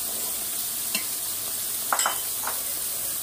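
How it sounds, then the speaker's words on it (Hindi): Peas, carrots and capsicum stir-fried in a pan for chicken and vegetable fried rice, a quiet steady sizzle with a few distinct scraping stirs and a light metallic clink. "इसकी भुनाई करनी है ताकि फ्राई हो जाए।"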